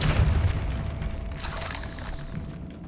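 A Depulso spell blast goes off in Hogwarts Legacy, a loud, close boom with a heavy low-end thud that opens the clip and trails into a crackling, shattering rumble as it fades.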